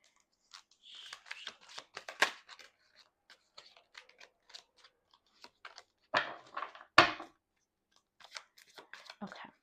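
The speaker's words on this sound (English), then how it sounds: "Just get a little shuffle quickly." Tarot cards shuffled quickly in the hands, close and fairly quiet, a scatter of short dry scratching and riffling bursts with gaps between.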